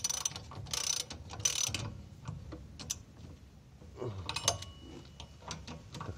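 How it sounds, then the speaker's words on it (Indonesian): A hand ratchet wrench tightens the wheel bolts of a Toyota Agya in a crisscross pattern during a rear wheel bearing replacement, giving quick close clicking bursts in several separate runs with short pauses. "untuk pengencangannya dilakukan secara menyilang ya"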